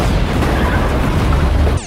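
A missile explosion from Catwoman in The Dark Knight Rises, a dense, loud continuous roar of blast and rumble that fills the whole moment before cutting off abruptly.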